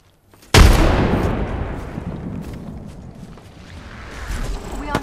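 In the Apex Legends video game, a sudden loud blast of gunfire bursts out and rolls away in a long, rumbling decay that swells slightly again near the end.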